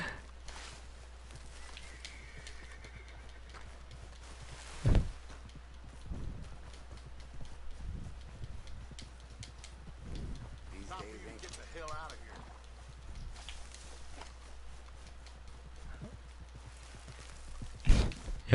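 Horse hooves clip-clop in Red Dead Redemption 2, sparse and uneven hoof strikes over a low steady hum, with occasional louder thumps and someone talking intermittently.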